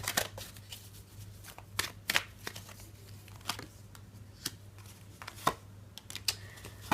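Tarot cards are shuffled by hand in a quiet room, producing crisp riffling bursts and soft card slaps at an irregular rhythm, close and fairly faint over a low steady hum.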